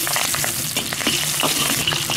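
Scallion and ginger fry in hot oil in a wok, a loud, dense and continuous sizzle with quick stirring scrapes running through it, close up and without talk.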